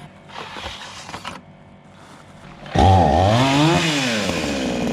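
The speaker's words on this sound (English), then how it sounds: "using the chainsaw was really easy" A chainsaw cutting a tree roars to life after some rustling and handling noise, its engine revving up and down loudly and close by.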